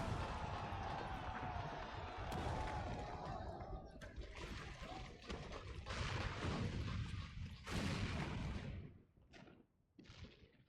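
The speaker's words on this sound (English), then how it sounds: "It must have been the cannon at Castrum Albania" Cannon fire at Castrum Abania in Final Fantasy XIV booms out as a long, rumbling barrage of blasts under distant battle noise. Sharp bursts come near the end, then it falls quieter.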